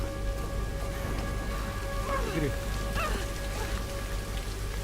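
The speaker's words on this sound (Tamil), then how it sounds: "மழை பெய்யுது" Rain falling in the video game Tomb Raider, played on PlayStation 5: a steady, dense patter of drops on surfaces that continues without a break, with a voice speaking faintly under it.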